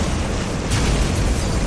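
Bombs exploding in the video game Centipede Jr., a loud continuous blast rumble with a sharper burst surging partway through, no speech.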